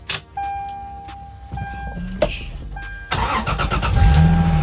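A Lexus GS300 Toyota car cranks and fires up, its engine catching after a few seconds and settling into a steady idle close by, preceded by clicks and small mechanical noises.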